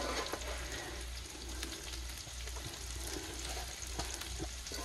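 Potatoes frying in a pan inside a hot tent on a campout, a steady low sizzle and crackle with faint stirring scrapes, moderately close and continuous with no talking.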